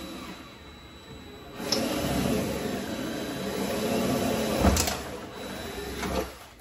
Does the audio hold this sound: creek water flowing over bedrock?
no